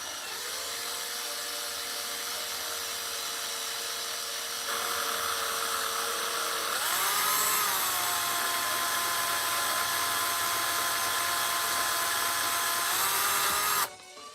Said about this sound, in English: I'm using a smaller drill bit, and that went really well